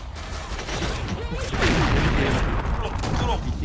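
Gunfire in Mission Against Terror 2, a bomb match on the Huangpu map, comes as dense, overlapping rapid shots with a booming undertone, close and loud and continuing throughout.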